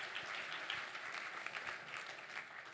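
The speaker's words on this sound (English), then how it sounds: "Another round of applause for James and Giles." A conference audience claps in a brief, even round of applause, fairly faint and distant, with no voices over it.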